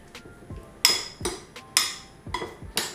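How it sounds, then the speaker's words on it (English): A spoon mixes pieces of tempeh with peanut butter in a bowl, giving a few separate clinks and scrapes against the bowl. Each knock is close and fairly loud, spaced irregularly with quiet gaps between, and no one talks. "Just mix it gently with the spoon."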